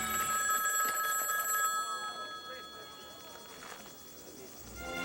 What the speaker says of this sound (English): the legend of the ringing phone would never end.